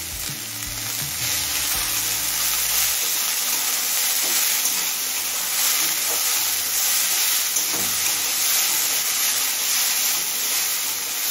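Chopped snake gourd (chichinga) frying over a medium flame with turmeric and salt, giving a steady loud sizzle with hiss throughout, after a few stirring knocks at the start.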